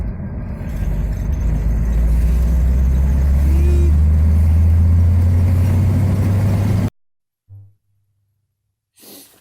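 Classic car driving around, its engine a steady loud low rumble for about seven seconds, then cutting out, followed by two short faint bumps.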